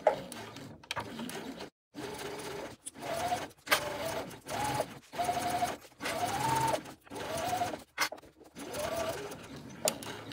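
A sewing machine stitches a tote bag bottom to its main panel, running in several close bursts of steady mechanical whirring with short pauses between, near and alone.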